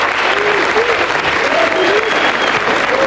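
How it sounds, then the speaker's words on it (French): Studio audience applause for guest Anthony Cavalla on a 1999 French TV show, a dense, steady clatter of many hands filling the whole stretch at close range, with faint voices briefly surfacing through it. "je voudrais qu'on applaudisse Anthony Cavalla"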